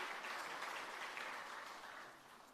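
Audience applause at a hybrid education capacity-building workshop: a dense, steady wash of many hands clapping, fairly loud and sustained, tapering slightly toward the end with no voices over it.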